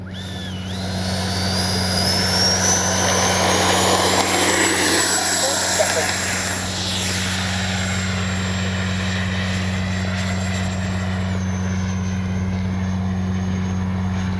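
An XFLY F-35 70mm RC jet, a new Pro Edition on its maiden flight, takes off and flies with a loud, steady ducted-fan whine that rises in pitch and holds near and strong throughout.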